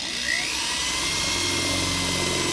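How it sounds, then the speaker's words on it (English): A power drill whirring steadily as it bores a new hole while a 2014–2019 GMC splash guard is being installed, a close, continuous high-pitched motor whine that holds at constant loudness throughout with no talking. "I'm going to drill this new hole."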